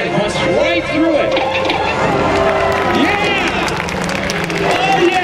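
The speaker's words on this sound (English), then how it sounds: "The audience is clapping like crazy" An air show audience at AirPower Over Hampton Roads claps and cheers loudly and continuously, with crowd chatter and whistles mixed into the applause.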